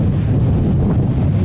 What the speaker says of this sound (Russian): Ох, ветер сильный